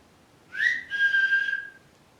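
A single person whistles two short notes, a brief chirp followed by a longer steady tone, clear and close against near silence at an old site.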